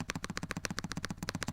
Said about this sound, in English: press your spacebar at home and tell me if it sounds like this